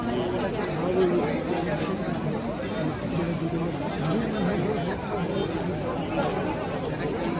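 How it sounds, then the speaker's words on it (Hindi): Dense crowd chatter at a martyrs' fair gathering in Dugadda, Uttarakhand, where people assembled to hear the chief minister; a steady, continuous babble of many voices with no single speaker standing out. "दुगड्डा में काफ़ी भीड़ जमी हुई थी"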